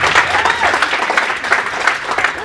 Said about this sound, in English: Give Carami a round of applause,